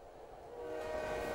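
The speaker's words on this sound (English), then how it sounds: "No, I dodged the train, thank goodness." A subway train roars past with a sustained horn in Silent Hill 3, a steady rumbling swell that grows louder midway through, with no talk over it.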